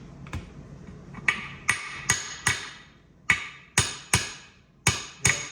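Ball peen hammer striking a brass drift punch to drive a part out of a Muncie transmission, nine sharp metallic blows in an uneven rhythm, close and loud with short ringing tails, no voices.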